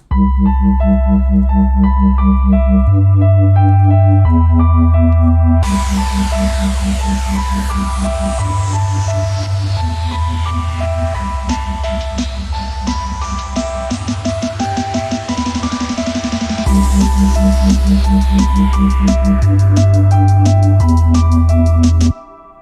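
Electronic dance music with a pulsing bassline and repeating melody builds under a rising sweep, then bursts into a fuller, louder section.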